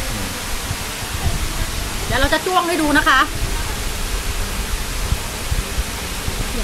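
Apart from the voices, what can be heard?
Sam Morakot waterfall rushing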